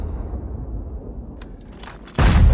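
A tank's heavy cannon fires in a video game set on Mines, a single loud boom landing near the end after a stretch of low rumble and faint clatter.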